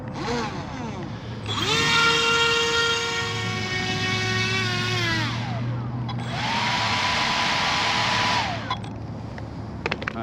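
An ARTR J&R Marine H26 RC hydroplane boat makes two passes on the water, its motor giving a high, strained whine that climbs in pitch, holds and then drops away, with a short quieter gap between the runs.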